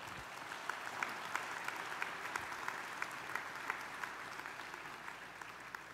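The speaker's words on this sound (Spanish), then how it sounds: "Denle un aplauso a Cristo." A church congregation claps steadily in a continuous, even wash of applause, moderately distant, with no speech over it.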